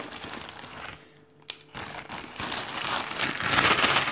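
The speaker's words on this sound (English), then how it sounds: "I'm shuffling this bag, aren't I?" Board game tiles shuffled inside a bag, a close rustling, clattering rattle that builds after a short quiet gap and a single click.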